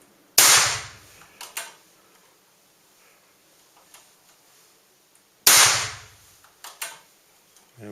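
Two sharp, loud pellet shots from an FX airgun with an unsilenced barrel, each a crisp crack followed by a short rattle of echoes, spaced about five seconds apart over quiet surroundings.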